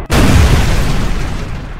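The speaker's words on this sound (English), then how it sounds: "The Panther tank rotates its turret and engages a T-34 at medium range." A single loud, deep boom of a Panther tank's 75mm gun firing at a T-34, hitting hard at once and then rumbling away with a long low tail. There is no speech.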